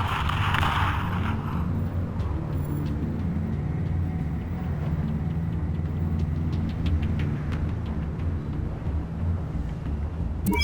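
Car engine in Batman: The Telltale Series rumbling steadily throughout at close range, a low continuous drone with road noise, no talk over it.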